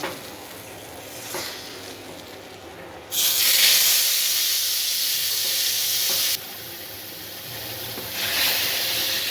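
Koi fish fry in hot oil. A loud, hissing sizzle surges up abruptly, eases, then flares again in close bursts over a quieter crackle.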